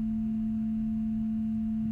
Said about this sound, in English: the first couple additional tones that you hear are the sum and difference of these two frequencies